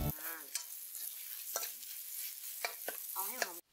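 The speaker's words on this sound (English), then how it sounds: "Stir fry it until the paste is fragrant" Chili paste sizzles and fries in hot oil while being stir-fried for Thai holy basil stir-fry (pad kra pao). A steady, close hiss of frying runs throughout, with a few brief scraping stirs.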